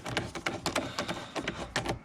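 A ratchet or driver tightens a stainless intake tube clamp at the throttle body of a 2003 Jeep Grand Cherokee WJ 4.7 V8, giving a quick run of close, rhythmic clicks over about two seconds.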